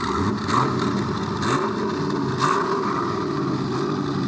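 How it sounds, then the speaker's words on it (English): A Chevrolet Camaro SS engine with an aftermarket cam revs in a choppy, lopey rhythm, surging roughly once a second, loud and close. "It definitely sounds like it's got a cam."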